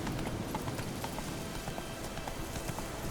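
Geralt's horse Roach galloping in The Witcher 3, a steady fast clip-clop of hooves on the ground, moderately close and continuous throughout.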